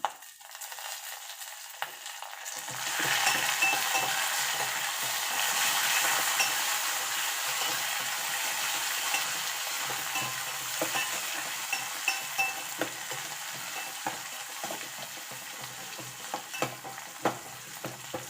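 Coriander leaves and sesame seeds for cucumber chutney fry in a hot pan, a dense sizzle that rises after a brief quiet start and runs continuously, with scattered clicks from stirring, close and fairly loud.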